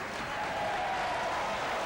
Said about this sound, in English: Nick Pinkney getting a well-earned round of applause